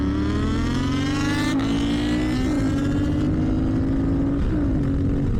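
Motorcycles accelerate hard in a drag race, engine notes climbing steadily through the gears with a brief shift dip, loud and close, no talk.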